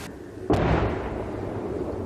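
A single artillery shell explosion booms out suddenly, followed by a long rumbling decay that fades slowly.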